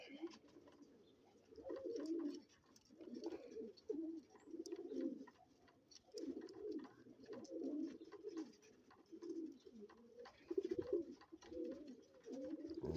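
Pigeon cooing in repeated low, rounded phrases with brief pauses between them, close and steady over about thirteen seconds, with no talk.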